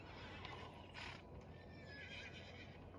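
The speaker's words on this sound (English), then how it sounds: "I know this riding around on the horse is not the most fun of gameplay bits to show you" A horse ridden in a Western video game neighs and whinnies while its hooves clip-clop steadily underneath. The sound is quiet and fairly close, with no talking.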